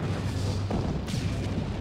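Cannons firing in a Final Fantasy XIV cinematic aboard a large ship, a dense rumbling roar of distant booms with a sharper blast near the middle, steady and loud throughout.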